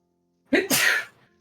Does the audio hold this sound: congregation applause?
no